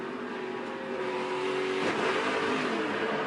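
NASCAR truck race engine heard onboard as the driver gets back on the throttle, a sustained mid-pitched roar that rises in pitch and loudness partway through.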